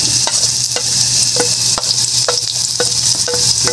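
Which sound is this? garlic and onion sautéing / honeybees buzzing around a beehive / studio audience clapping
garlic and onion sautéing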